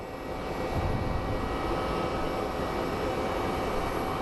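An airliner landing at Phoenix Sky Harbor airport, a steady broad engine roar and rushing noise throughout, loud and continuous with no voices.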